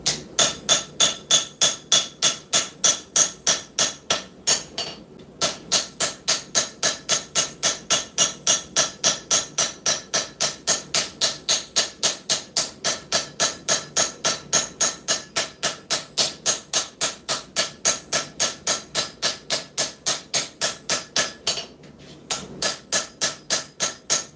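A hammer strikes a lightly heated forged blade in a fast, very regular rhythm of sharp metallic blows, near and loud, planishing it smooth, with two brief pauses before the steady hammering resumes.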